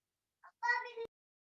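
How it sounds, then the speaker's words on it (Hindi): A cat meows indoors, a short faint mew followed by a longer, louder meow that ends in a brief knock, alone without talk. "there was a cat which came inside."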